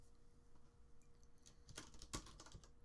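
Keys tapped on a computer keyboard, a quiet patter of scattered strokes that thickens into a brief flurry of sharper clicks midway, alone with no talk.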